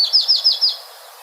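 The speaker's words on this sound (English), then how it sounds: "This is part of the trilling warblers" Trilling warbler song: a short high-pitched trill of four or five quick, evenly spaced descending notes, clear and moderately loud, ending abruptly with no other sounds.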